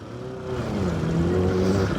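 An R6 motorcycle engine revving in city traffic, a steady loud drone with rising and falling pitch, close by and without talk.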